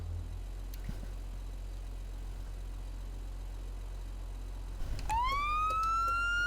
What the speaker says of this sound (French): Et écoutez bien les sirènes.